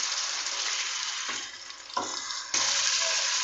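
Ginger garlic paste frying with onions in a hot pan gives a steady, loud, close sizzle, with a couple of brief stir scrapes breaking in and the sizzle flaring up again near the end.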